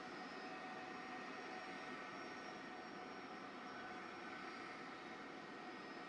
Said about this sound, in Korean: 이제 이륙 준비를 마치는 대로 특별 전용기 이제 이륙하게 되겠습니다.